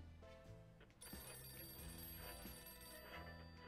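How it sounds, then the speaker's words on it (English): A telephone rings inside the bomb shelter in the game 60 Seconds, its bell-like tones repeating in bursts over a quiet background, fairly soft and alone without talk. "There's a phone."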